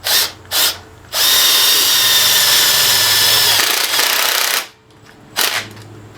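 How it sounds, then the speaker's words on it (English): A power drill driving screws into an electrical handy box for a switch on a DIY refrigerant recovery rig: short motor bursts, then a long loud steady whir, then more brief bursts, close up. "So we're basically just screwing in our handy box."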